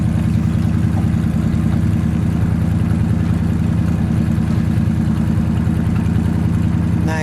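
A blue and silver 1975 Dodge Charger Daytona with a 360 V8 idles a little high, a steady, loud, close rumble with an even low throb that never varies.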